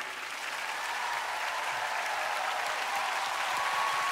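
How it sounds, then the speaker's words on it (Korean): A studio audience at a televised music show applauds, with thick, continuous clapping that holds at an even level for several seconds. "박수 주세요"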